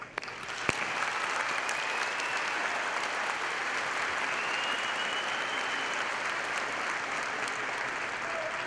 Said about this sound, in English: So let's please give a round of applause to those who raised us.